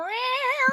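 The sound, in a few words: cat meowing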